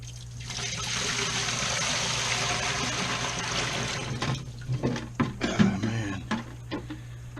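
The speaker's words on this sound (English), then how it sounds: "Let's get this water out of here." Dirty, foul water from a SunSun 404b canister filter pours out in a steady, fairly loud splashing stream, then breaks into irregular gurgles and sloshes as the flow tapers off.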